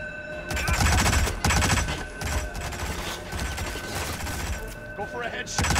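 Rifle fire in the stealth action game Hitman 2016, rapid bursts of gunshots with a steady crackle of shots that rises and falls in loudness, sounding close, over a faint background tone.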